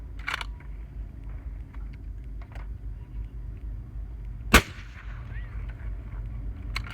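Single suppressed rifle shot from a 24-inch 6.5 Creedmoor fitted with a Thunder Beast Ultra suppressor, one sharp crack midway through a quiet outdoor background, followed by a brief fading tail.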